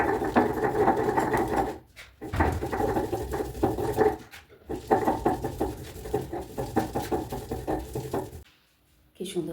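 Paste is ground by hand on a stone sil grinding slab, a rough rhythmic scraping and rolling in long strokes, broken by a few brief pauses, loud and close.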